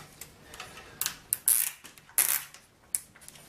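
A plastic cable tie is ratcheted tight on a TV antenna mount, giving a series of crisp, close clicks and zips at uneven intervals with brief quiet gaps between pulls.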